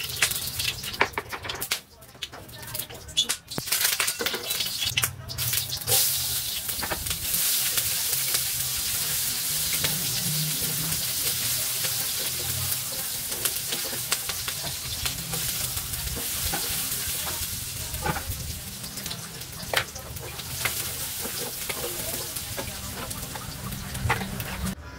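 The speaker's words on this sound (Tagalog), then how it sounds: "Igigisa na nga pala natin dyan yung sibuyas at bawang" Onion and garlic sautéing in a pan for a papaya and sardine dish, a steady broad sizzle with stirring scrapes running throughout, fairly loud and close, with occasional faint background voices.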